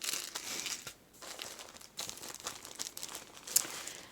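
A plastic bag crinkles up close as a trim piece is handled inside it, quick bursts of crackling rustle with brief pauses in between.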